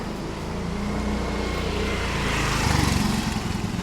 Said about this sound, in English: Check this Porsche out.